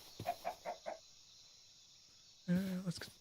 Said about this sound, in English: Chickens going over here.